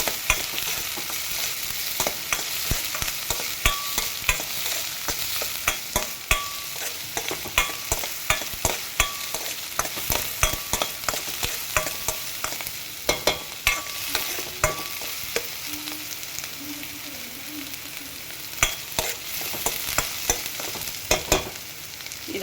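Ingredients sizzle steadily in a pan for bread masala toast, with frequent sharp clinks and scrapes of a spatula stirring throughout, close and continuous with no talking.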